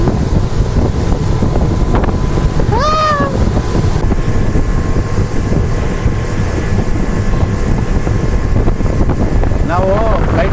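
A motorboat speeding along a river on a cruise, a loud continuous engine and wind roar close to the microphone, with brief whistle-like tones rising over it and no break in the noise.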